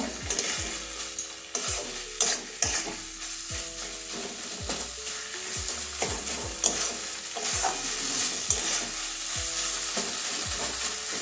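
Pointed gourd being stirred with garam masala in a pan for potoler chechki, a steady sizzle with repeated scraping strokes of the spatula at an even rhythm, close and alone without talk.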